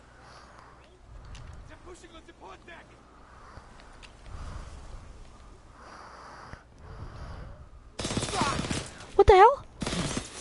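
Gunfire in a WW2 multiplayer shooter game, a few sharp shots bursting out near the end amid loud game noise, following stretches of quiet talking voices.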